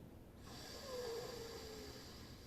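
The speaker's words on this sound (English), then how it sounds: "we're going to inhale very strongly through our nose" A single strong, rushing inhale through the nose during yoga breathing practice. It is close and breathy, lasts around two seconds and is heard alone.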